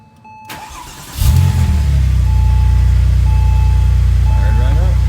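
A Porsche 996 Turbo cranks over and fires after its MAF sensor swap, bursting into a loud, close idle that settles into a steady low drone, with a faint electronic tone running underneath.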